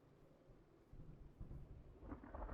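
Faint, distant thunder rumbles under a soft wash of rain during a storm in a video game, with low rolling swells building toward the end and no voices.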